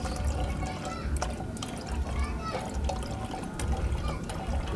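Liquid organic fertilizer poured from a container, a steady splashing, trickling flow with small drips, close and continuous, with faint background noise.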